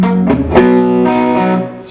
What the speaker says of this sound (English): give yourself the distortion, and play along with the chords